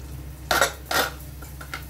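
Metal clatter of a pressure cooker lid being opened after cooking vegetables and peas for veg kurma, two sharp bursts followed by a few lighter clinks, close and alone with no talk.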